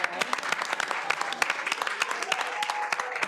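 Steady applause from a room full of people, dense clapping that carries on evenly for a few seconds, close and fairly loud.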